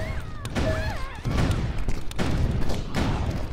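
Grenade launcher shots in the OpenArena first-person shooter: several heavy thumps and booms in quick succession, loud and close, over a dense layer of game noise and whistling effects.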